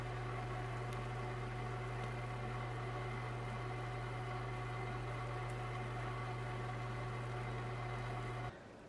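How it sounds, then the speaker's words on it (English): A toaster oven runs with pineapple chicken drumsticks inside, giving a steady low electrical hum and fan whir that holds evenly for about eight seconds before cutting off abruptly. "I'm gonna put it back in the toaster oven"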